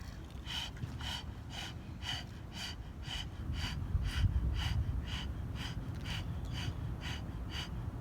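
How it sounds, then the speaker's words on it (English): Breath of fire breathing through a rolled, curved tongue, heard as quick rhythmic sharp exhalations, about two per second, close and fairly soft, repeating steadily for several seconds. "We're just gonna do a little breath of fire through the tongue."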